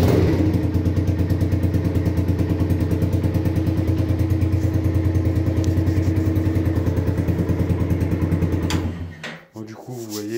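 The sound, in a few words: Yamasaki Roadster RS 50cc motorcycle engine starting indoors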